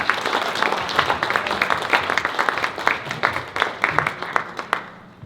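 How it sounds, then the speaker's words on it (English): An audience claps for an award recipient at a Polish-American cultural society installation and award ceremony, with a steady patter of individual claps, some sharp and close, tapering off toward the end. "Let's give her a big applause,"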